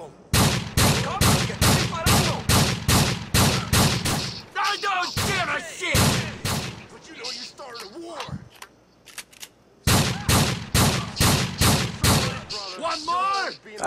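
Rapid gunfire during a snowstorm mission in the video game GTA IV: two long bursts of quick, evenly spaced shots, separated by a pause in which someone talks over scattered shots and game noise.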